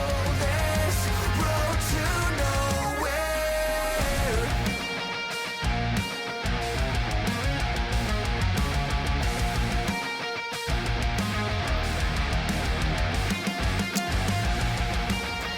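A loud, dense progressive metal chorus with many stacked layers of guitars, driving drums and sustained tones, continuous throughout.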